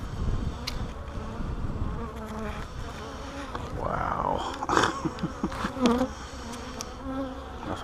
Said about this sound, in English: It is full of bees.